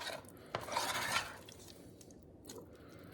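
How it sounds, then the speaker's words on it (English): A spoon scrapes and stirs a thickening fudge mixture in a pan, giving soft sticky swishes and a couple of light metallic knocks, fairly quiet and without speech. "It is getting harder to stir."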